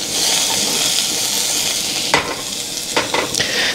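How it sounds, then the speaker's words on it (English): Sliced leek and carrot stir-fry in olive oil in a hot pot, giving a loud, continuous sizzle, with a few spatula scrapes and clatters against the pan toward the end. "So I'm going to stir fry the vegetable first."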